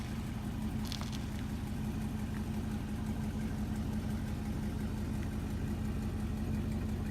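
A vehicle engine idles steadily and close by with a low, even rumble while a trailer is backed up, holding the same droning note throughout with no talk over it.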